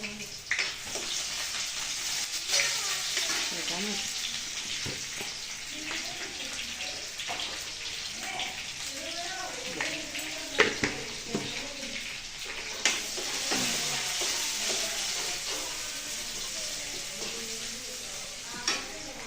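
Potatoes being stirred in a sizzling pan for a thin potato curry in a home kitchen, a soft continuous sizzle with scraping spoon sounds, faint and fairly close, with occasional quiet speech.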